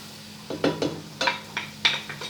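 Zucchini and carrots go into a pot of sauce for Kabyle mchawcha, making a series of about five sharp clinks and soft thuds against the cookware, close by with a faint steady hum beneath.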